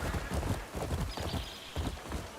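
A horse's hooves clip-clop in an even, repeated gait in the video game Crimson Desert, close and moderately loud over low ambient game sound.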